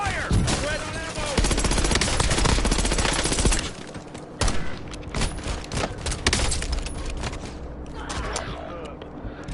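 Rapid automatic gunfire in Call of Duty: Warzone, a loud, dense rattle of machine gun bursts with booming impacts, briefly pausing before resuming in choppy volleys, mixed with in-game radio voices.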